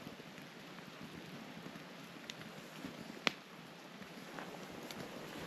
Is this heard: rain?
yes